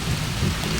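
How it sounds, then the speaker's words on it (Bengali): Heavy downpour with rumbling thunder outdoors during the rainy season, a steady dense hiss of rain with low booming underneath, close and loud with no voices. "কি সুন্দর ধোঁয়াধার বৃষ্টি হচ্ছে চারিদিকে, আর তার সাথে মেঘের গর্জন"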